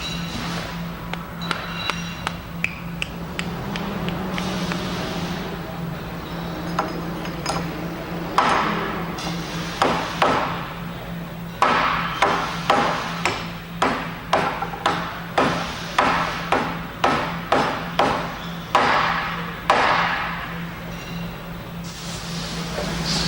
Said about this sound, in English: using the same hammer, finish inserting it into the eccentric housing